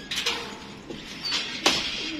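A flying-breed pigeon coos softly in a few low, intermittent calls, with sharp clicks and knocks around it. No voices are heard.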